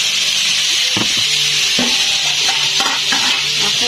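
Marinated pork fries in a pan with a steady, bright sizzle of oil, broken by a few scattered clunks and scrapes of a utensil stirring close by.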